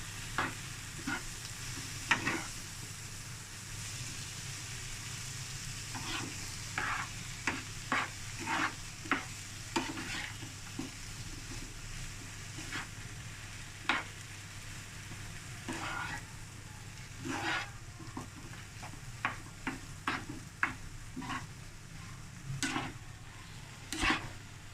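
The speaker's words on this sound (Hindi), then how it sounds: "ऐसे ही इसको मिक्स करते हुए 2 से 3 मिनट हम इसको पकाते हैं" Potato samosa filling with coriander, mint, green chilli and spring onion greens frying softly in a pan, a quiet continuous sizzle broken by frequent scraping stirs of a spoon against the pan.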